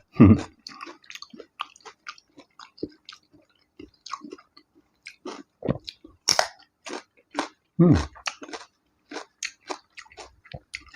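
Fresh winged beans crunched between the teeth at close range, with crisp, irregular bites and chewing that snap in quick bursts against a quiet background.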